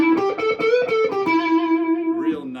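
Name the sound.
Heritage H535 semi-hollow guitar with P90s through Tumnus pedal distortion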